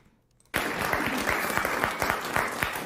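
After a brief near-silent moment an audience bursts into applause, a dense steady clapping that holds strong to the end.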